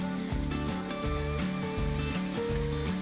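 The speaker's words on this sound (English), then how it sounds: "She half fry the chopped onions and garlic in olive oil" Chopped onions and garlic fry in olive oil in an Indian home kitchen, giving a steady sizzling hiss under rhythmic background music.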